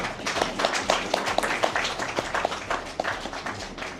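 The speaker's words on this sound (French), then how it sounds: "Applaudissez s'il vous plaît." An audience applauds during a certificate presentation at a national training workshop, steady mid-distance clapping from many hands that holds at an even level throughout, with a faint voice briefly underneath.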